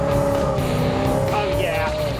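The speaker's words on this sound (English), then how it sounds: "about to race this wonderful Coronet" A Dodge Coronet racing: a steady loud engine drone with a sustained tonal whine, and a brief squealing rise near the end, without pause throughout.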